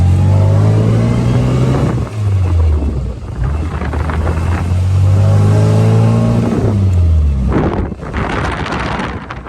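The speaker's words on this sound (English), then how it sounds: "neutral, rev, second, and there's my double clutch." An Austin Healey Bugeye Sprite engine revs up and falls back twice during a double-clutch shift through neutral into second, loud and close, with wind rushing past and a rising rev near the end.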